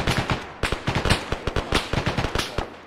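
Rapid gunfire crackles in the combat game Arma: a fast string of sharp, loud close shots in quick bursts, nearly continuous across the moment.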